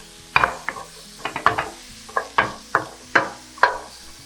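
Chili tipped into a hot pan of beans that holds the fish's leftover flavour, sizzling and stirred, with about ten crisp scraping strokes in an uneven rhythm, close and clear without talk.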